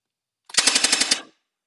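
A Thompson M1A1-style toy gel ball blaster firing a rapid burst of about six or seven sharp shots over roughly a second, close and crisp with a whirring mechanism beneath, alone in a quiet room.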